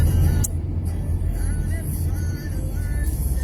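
Continuous low engine drone and road rumble from a car moving slowly through a blizzard in near-zero visibility, steady and fairly loud, with a brief sharp knock near the start.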